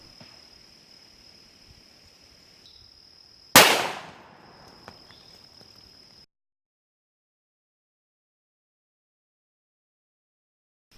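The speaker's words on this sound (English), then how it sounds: "I froze this just to shoot it for you." A single sharp, loud shot from a Smith and Wesson .44 Magnum revolver fired at a frozen cantaloupe outdoors, a sudden crack with a short decaying tail over a steady insect-like hum, then near silence.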